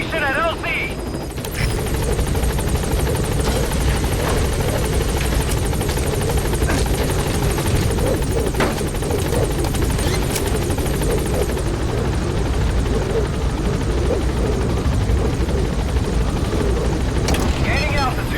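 The Pequod transport helicopter in Metal Gear Solid 5: The Phantom Pain gives off a loud, continuous rotor roar and whine that holds steady throughout, close and dominant, with a brief tonal cue at the start.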